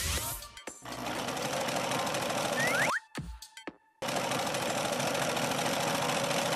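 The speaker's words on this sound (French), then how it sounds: "Il utiliserait une machine à coudre." A sewing machine running in fast, steady bursts of rapid mechanical stitching, close and loud, stopping briefly in the middle with a couple of short clicks before starting again and running on.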